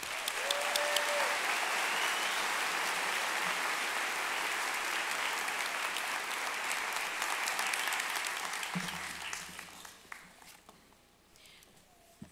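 Sustained applause from a large audience at a university commencement ceremony, steady and dense for several seconds before gradually thinning out and fading.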